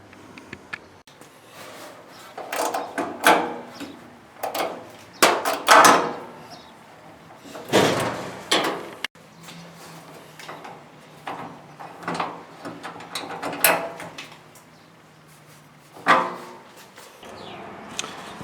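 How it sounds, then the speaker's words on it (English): A 1/2-inch wrench works the nut off the drum support roller of a Maytag Neptune dryer, giving scattered close metallic clanks, scrapes and knocks in irregular bursts over a quiet background with brief pauses. "take a 1/2-inch wrench and take the nut off the back"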